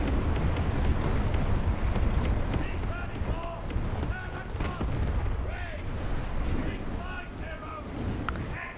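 Tank gunfire and explosions in the War Thunder Mobile video game, heavy booms and rumbling blasts over constant engine and battlefield noise, loud and dense with a few sharper cracks late on.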